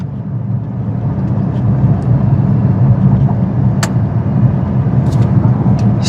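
A 2015 Porsche Panamera Turbo Executive on a test drive gives a steady, low cabin rumble of engine and road noise, with a few faint ticks and no speech.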